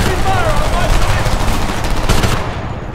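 Sustained heavy automatic gunfire in the first-person shooter Homefront, a dense and loud rattle of shots that runs continuously and tails off at the end, with voices of the game's characters underneath.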